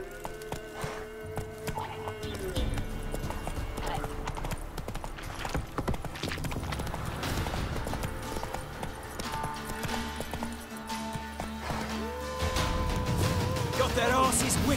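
Roach the horse gallops in The Witcher 3, with quick rhythmic hoof clip-clops that run continuously over a busy bed of game sound and music.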